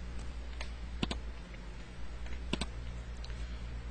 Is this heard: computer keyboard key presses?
yes